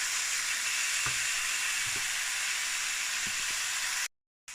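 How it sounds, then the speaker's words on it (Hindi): Onions sauté in a pan with ginger-garlic and green chili paste for chicken samosa filling, sizzling loud and steady with a few soft stirring knocks before a brief dropout near the end. "ये अनियंस मैंने थोड़े से अपने सौते कर लिए हैं"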